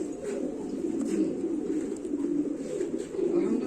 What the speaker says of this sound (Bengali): অনেকগুলো কবুতর আছে